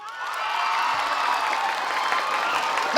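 Youth-night audience clapping and cheering in a loudness game, a steady, fairly loud wash of applause and shouting voices filling the whole moment.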